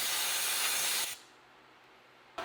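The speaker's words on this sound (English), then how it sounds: "I went ahead and sprayed it down with some throttle body cleaner" An aerosol can of throttle body cleaner sprays in one continuous hissing burst for about a second, then cuts off into near silence before a brief second hiss starts.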